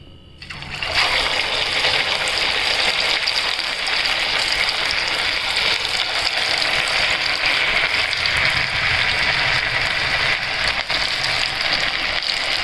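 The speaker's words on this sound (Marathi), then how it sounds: "आता मी ह्यामध्ये एक एक वडे सोडणार आहे." Sabudana vadas deep-frying in hot oil over low heat, a steady loud sizzle and crackle that starts abruptly and holds evenly throughout, with no talking.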